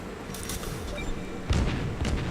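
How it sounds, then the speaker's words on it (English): Naval guns fire shells in a game battle against a cornered aircraft carrier, heard as repeated low booms: one volley early, then a heavier, louder burst of blasts at about the midpoint, with further thuds following. "I just start throwing shells at him to try and get some more hits in while I can"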